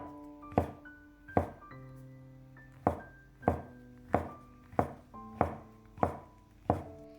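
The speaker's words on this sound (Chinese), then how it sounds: "准备几个香菇，先切成薄片。" Knife slicing shiitake mushrooms into thin pieces on a cutting board in a home kitchen: about ten crisp, evenly spaced chopping thuds, close and clear, with faint tonal background music.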